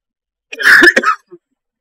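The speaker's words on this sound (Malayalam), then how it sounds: "ആ ഇൻഫെക്ഷന്റെ ചുമയാണ് ഇപ്പൊ ഈ കിടന്ന് കൊഹോ കൊഹോ വെക്കുന്നത്." A single harsh, close cough from someone with a chest infection, a short rough burst followed by a brief catch of breath, loud and isolated in otherwise silent surroundings.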